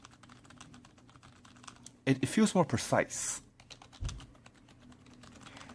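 Fingers type on a Logitech G105 membrane keyboard in a short, fast flurry of keystrokes, close up, with someone talking before and after the burst.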